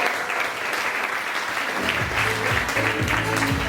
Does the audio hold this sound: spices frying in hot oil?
no